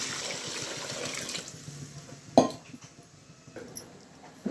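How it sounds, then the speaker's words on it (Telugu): Water poured into a cooking pot of vegetable pulao in a home kitchen, a steady wash of liquid for the first couple of seconds, then a sharp clank of the pot and a few quieter settling splashes. "ఇప్పుడు వాటర్ పోసేసుకుందాం"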